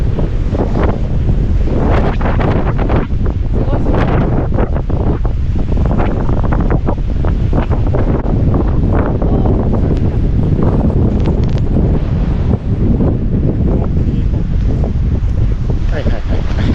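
Strong wind buffeting a snowy mountain, roaring constantly and loudly with heavy microphone gusts throughout, while people talk underneath.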